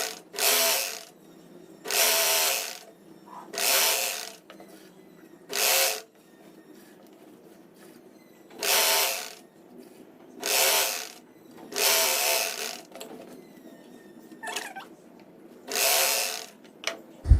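A sewing machine stitching a shirt seam while a loose, long shirt is refitted, running in repeated bursts of about a second each, with quiet gaps between them, loud and close with no talking.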